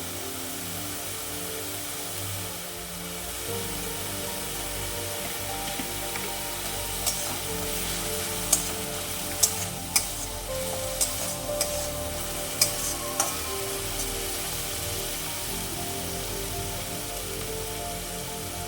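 Ginger paste sizzles in a frying pan alongside onion and tomato paste while a spoon stirs it, a steady broadband hiss with scattered sharp scraping clicks midway, close and alone without any talk.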